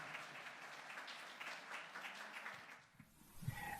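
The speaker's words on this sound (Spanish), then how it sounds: "vamos a darle un aplauso fuerte" Church audience applauding a guest preacher, a soft, distant patter of clapping that fades out after about three seconds, followed by faint room noise and a small knock.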